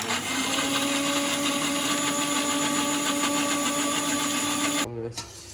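Mixer grinder whirring steadily at high speed while blending almonds with milk, a loud constant motor whine with humming overtones that cuts off near the end, followed by a brief clatter.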